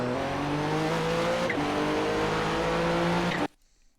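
A Nissan GTP ZX-T prototype race car's engine drones at high revs around Road Atlanta in iRacing, a loud steady tone with a brief dip in pitch midway before the sound cuts out abruptly near the end.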